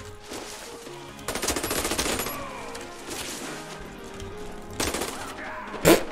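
AK-Alpha rifle gunfire in a video game arrives as loud automatic bursts, one long burst early on and another later, followed by a sharp crack near the end, with little else in between.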